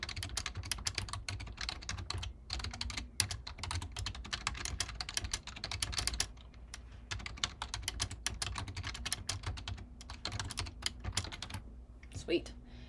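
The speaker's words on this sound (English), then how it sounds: "So I'm going to type in a little paragraph or just a sentence." A computer keyboard is typed on in steady bursts while a paragraph is entered. The close, quiet key clicks come in a busy rhythm with short pauses.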